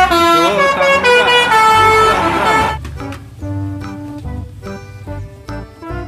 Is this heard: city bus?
yes